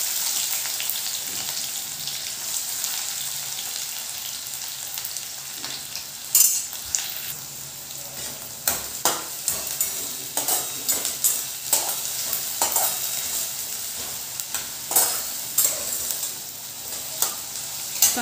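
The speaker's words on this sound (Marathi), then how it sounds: "कांदा छान लालसर रंग येईपर्यंत शेकवायचा." Onion frying in oil in a kadhai for methi bhaji gives a continuous close sizzle broken by repeated clinks and scrapes of stirring that grow busier in the second half, with no voices.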